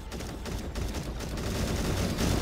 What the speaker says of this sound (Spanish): a ver qué tal va la ametralladora esta